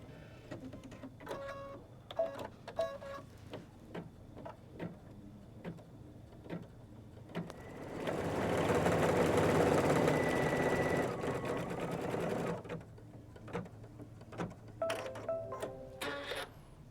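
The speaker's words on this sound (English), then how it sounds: "let's go ahead and stitch the words "You're one in a melon."" An embroidery sewing machine stitches lettering onto a quilt project in a steady, rapid mechanical whir of a few seconds, with a person talking quietly before and after.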